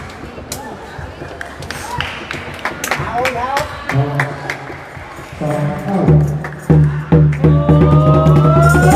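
Cheering section crowd at a youth boys' sepak takraw match in Ban Pong, Thailand, loud and continuous with rhythmic chanting, claps and thumps, building to sustained shouting near the end, with a voice talking over it.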